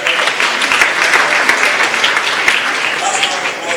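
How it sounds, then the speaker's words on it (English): An audience applauds the organizing team at a live innovation competition event, steady dense clapping filling the whole stretch at close range with no pause. "Just give them a hand because they put a lot of thought here."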